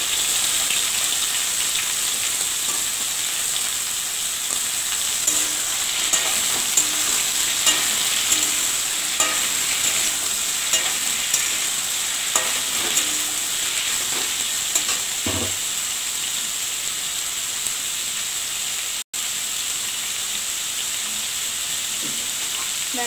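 Pumpkin, potatoes and soybeans frying in a pan with a steady, rain-like sizzle and intermittent stirring clicks, close and continuous for the whole stretch with no talking.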